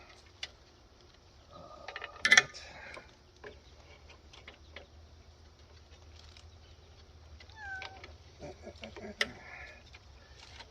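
A cat meows in a workshop during bandsaw tire replacement, a couple of short faint mews amid quiet room noise, light clicks and handling sounds.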